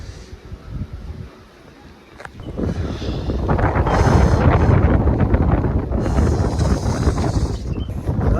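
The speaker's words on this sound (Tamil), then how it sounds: "பயங்கரமான காற்றடிக்குது." Strong wind gusting over a misty hilltop at Sirumalai, buffeting the microphone in loud, roaring rushes that swell after a brief lull and stay heavy to the end.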